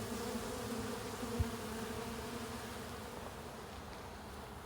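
Honey bees buzz at a hive entrance, a dense, steady drone of many insects close by, continuous and fairly loud with no voices.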